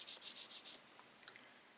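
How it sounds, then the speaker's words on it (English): A finger rubs a papercraft card in five quick, bright swishing strokes up close, followed by a couple of faint soft taps. "put my card on the top, give it a gentle rub with just my finger"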